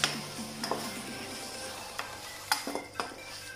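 Masala being stirred into beef or mutton liver kaleji in a pan, with a soft sizzle underneath and several sharp spoon scrapes and clinks against the metal at irregular intervals.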